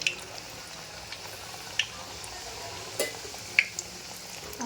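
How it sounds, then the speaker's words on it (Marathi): Pumpkin gharge frying in hot oil, with a steady low bubbling sizzle and a few sharp pops and spatters spaced out across the stretch, with no talk. "आता सगळे आपण एक एक करून सोडून तळून घेऊयात"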